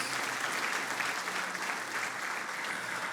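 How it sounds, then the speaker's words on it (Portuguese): A church congregation at a Portuguese-language service claps in dense, even applause that continues steadily, filling the room without a break. "aplauda o Senhor mais uma vez, ele merece."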